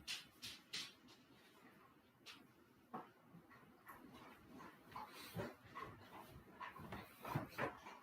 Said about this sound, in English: My dog is begging for water.